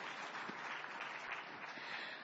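A crowd applauds alone following a panel discussion on MSME finance, a soft, even wash of clapping that holds at moderate loudness for a couple of seconds.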